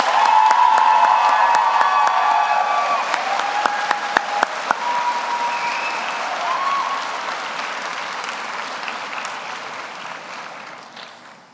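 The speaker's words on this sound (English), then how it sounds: "I just want to ask you all to join me in a round of applause for the wonderful faculty and staff" Loud, sustained applause from a large audience at a College of Nursing pinning ceremony, steady clapping that gradually thins and fades over about eleven seconds, with a few sharp individual claps standing out.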